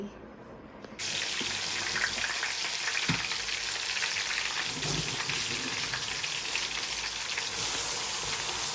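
Coarsely ground onion paste frying in a pan, cooking for fish curry: a loud, steady broadband sizzle that starts abruptly after a quiet first second and carries on unbroken, with no talking.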